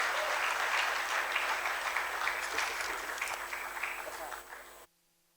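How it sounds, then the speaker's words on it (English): A commemorative symposium audience claps in a loud, steady round of applause with a murmur of voices mixed in, gradually easing before stopping abruptly. "another round of applause for him, please"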